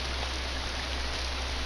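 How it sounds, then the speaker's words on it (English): Rain in the horror game Corpse Party, a steady even hiss of falling rain, constant and unbroken, with no voices. "It was a rainy after school day, just like this."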